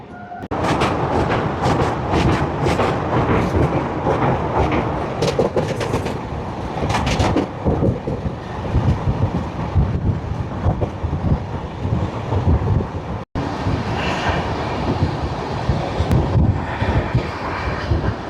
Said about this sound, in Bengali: এইমাত্র ট্রেন রাজঘাট ব্রিজের উপর থেকে ছুটে এলো, সুবর্ণরেখা নদীর উপর থেকে।